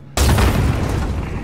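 A loud, close explosion with gunfire from the Call of Duty Modern Warfare campaign bursts in suddenly and sustains a heavy, roaring blast that fills the short moment.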